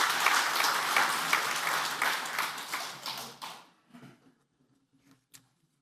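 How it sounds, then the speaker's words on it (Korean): Warm applause from a church prayer-meeting congregation, steady and full for about three and a half seconds, then quickly fading out to a few last scattered claps. "다시 한번 박수 드리겠습니다."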